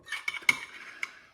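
Metal cutlery clinks as a spoon is picked out of a utensil drawer in a home kitchen, a few quick sharp rattles and taps over about a second, close and fairly quiet.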